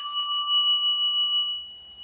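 An EPCO elevator bell from an elevator parts collection rings once with a bright metallic ding, close and loud, then its clear tones decay slowly over about two seconds, alone with no talking.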